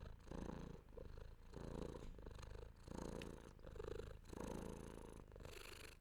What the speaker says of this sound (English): but she's very purry